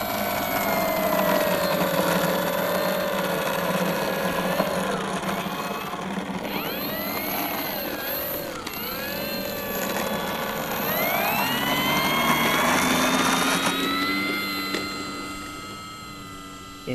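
FMS Maule 1500mm RC model plane rolling for takeoff, its electric motor whining and shifting pitch up and down with a rattling tail wheel noise underneath, loud and close.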